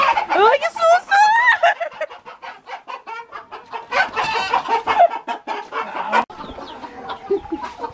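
A rooster clucks close by in repeated short calls on a farm, with people talking in bursts around the bird throughout.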